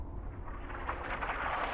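A car blowing up in the video game Fallout 4, a sustained, rumbling explosion roar that swells steadily across the short moment, dense and loud with no voices over it.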